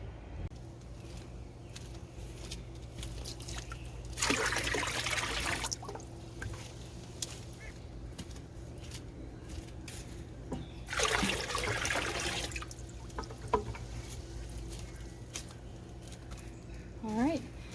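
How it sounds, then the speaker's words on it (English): Hose water splashes into a hydroponic reservoir during a top-up in two broad bursts, each a few seconds long, with quieter gaps of low background hum and faint trickling in between. "I'll just top this up a little bit more with more hose water"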